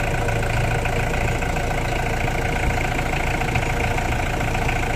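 Freshly overhauled Mitsubishi 4M40 diesel engine idles steadily and close by, a loud continuous rumble with a dense, even clatter and no change across the whole stretch.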